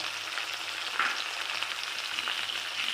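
Chopped tomato and onion sizzle steadily in a hot pan with oil for a spicy katla fish curry, a close, continuous frying hiss with faint stirring.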